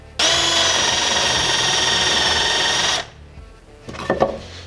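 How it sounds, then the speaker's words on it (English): A power drill with a paddle bit whines loudly through wood at a steady high pitch for about three seconds, then stops, followed by a few light knocks and clatter. "So I've switched over to a paddle bit"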